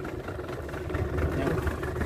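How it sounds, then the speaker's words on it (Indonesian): A boat motor runs steadily on the open sea during deep-water jigging near a shallow reef off Manado, Sulawesi, a low continuous drone with voices talking over it. "Eh, motor."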